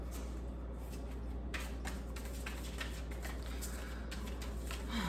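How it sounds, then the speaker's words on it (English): Tarot cards being shuffled by hand, heard as faint, quick papery riffles and soft taps over a quiet low hum. "I'm shuffling these cards."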